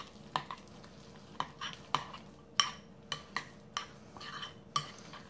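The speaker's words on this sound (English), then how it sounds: "But go ahead and stir that in." A spoon stirs shredded cheese into a stuffed-mushroom filling in a bowl, giving a dozen or so light scraping clinks spaced irregularly, close and fairly quiet, with no talking.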